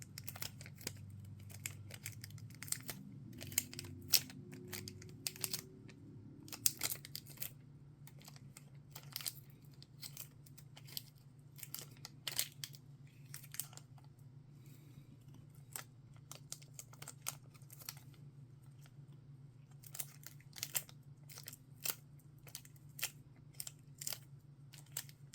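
Packing tape pulled and handled while cleaning out a small resin mixing cup, heard as scattered crinkly tearing and crackling bursts over a steady low hum, fairly faint and close.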